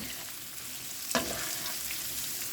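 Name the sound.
onions and garlic sautéing in a pot for udon soup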